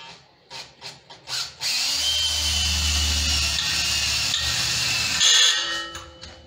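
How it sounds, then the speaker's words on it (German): A power drill bores into sheet metal at a grill: a few short whirring bursts, then one long, loud, steady high-pitched grinding whine that tapers off near the end. "Ja, Blechbohren ist jetzt mal eine unschöne Sache."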